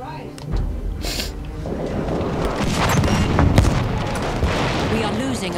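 A stick grenade goes off in Battlefield 1 on the Fort De Vaux map from the They Shall Not Pass expansion. A deep, booming blast opens the clip and sinks into a continuous roar of wartime battle noise and scattered shots.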